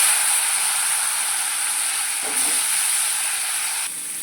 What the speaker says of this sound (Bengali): এই তেলের মধ্যে ভেজে নেব।